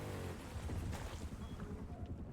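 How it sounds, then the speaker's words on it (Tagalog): A low, steady boat engine drone with a watery wash in the video game Rust, like a motorboat running nearby, continuous and fairly quiet with no one talking. "May bangka, may narinig akong bangka."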